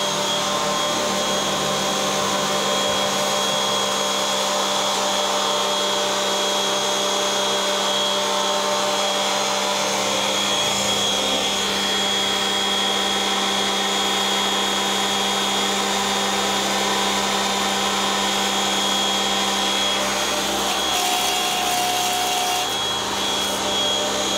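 A Xenon HPW 400 high pressure washer runs continuously, its motor whining and droning loud and close while the water jet hisses steadily, with slight shifts in pitch over the long run and no voices.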